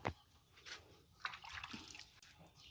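Water sloshes and trickles faintly in a freshly dug well that is filling with rainwater, with soft irregular splashes and drips.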